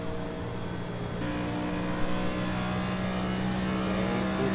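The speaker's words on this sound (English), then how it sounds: "And full throttle across the front straightaway." Race car engine held at full throttle down the front straightaway, a loud sustained droning roar with steady harmonic tones that rise slightly, heard from inside or near the car.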